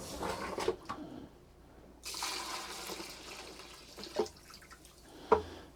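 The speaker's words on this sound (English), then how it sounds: "Fill that up, and then I'm going to flush it." An RV toilet flushing antifreeze into the black tank during winterization: a short gush of water around the midpoint, with a few sharp clanks or drips before and after, in a quiet small room.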